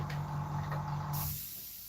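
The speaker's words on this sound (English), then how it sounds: "I need a thicker paint actually. Hold on. Just spray that through." An airbrush sprays paint during the build of an A-4M scale model, giving a short, steady hiss that starts abruptly partway through, up close, after a brief low mechanical hum.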